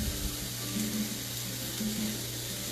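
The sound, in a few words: peppers and onions caramelizing in a pan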